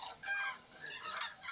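Cranes call in a few short, bright honking cries that overlap and repeat, fairly near and alone without talk.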